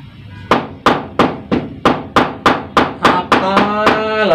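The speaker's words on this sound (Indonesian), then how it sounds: "Apalah lagi diketok-ketok itu." Hard, sharp knocks with a hammer-like attack, about a dozen evenly spaced blows roughly every third of a second, loud and close, with a ringing tail building up toward the end and no talk over them.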